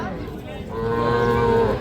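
Cattle at a livestock market for young bulls and heifer calves bellow in a loud, sustained moo that swells in the second half, with steady market noise behind it.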